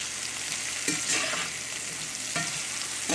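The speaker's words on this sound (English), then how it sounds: "Okay, I got my skillet hot. I'm just gonna cook this up, fry it up." Kohlrabi pieces fry in a hot skillet with plenty of grease, giving a close, steady sizzle broken by a couple of louder scraping stirs, with no voices.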